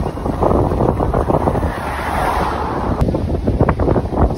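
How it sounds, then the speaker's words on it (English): Strong wind buffets the microphone on a beach in Rhodes, Greece at sunset, a loud, gusting rumble with faint surf beneath. "It's so windy"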